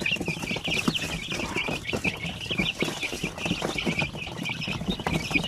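Chickens clucking and crowing at a backyard poultry farm where chicks are raised for sale, a steady dense chorus of many birds close by with no talk.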